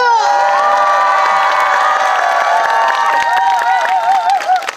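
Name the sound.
crowd applause and cheering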